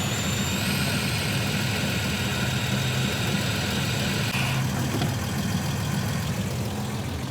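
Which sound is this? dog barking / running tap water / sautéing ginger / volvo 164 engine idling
volvo 164 engine idling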